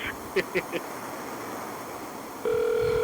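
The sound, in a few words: telephone tone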